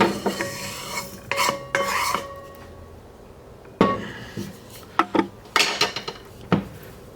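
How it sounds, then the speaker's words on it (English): Toasted Sichuan peppercorns are pounded and ground in a mortar with a pestle, giving scattered sharp knocks and gritty scraping strokes at irregular intervals, close and fairly loud, with no one speaking. "I'm going to put them in my mortar and pestle."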